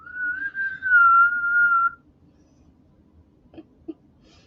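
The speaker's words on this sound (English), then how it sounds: "You guys hear the fireplace whistling?" A thin, steady whistle of wind through a fireplace lasts about two seconds, followed by quiet with a couple of soft knocks.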